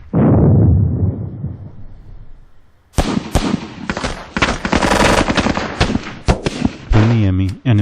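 In a video game, a rumbling explosion fades out, then sustained machine gun fire lays down pinning fire, rapid and loud in long rattling bursts with sharp cracks up close, and a brief voice is heard near the end.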